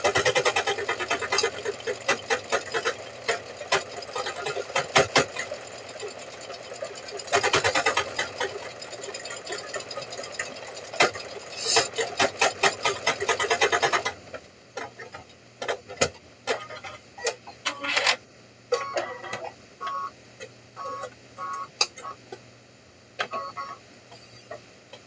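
An embroidery machine stitching keychains in the hoop, its rapid mechanical ticking and buzzing steady and loud at first, then breaking into intermittent clatters and short runs.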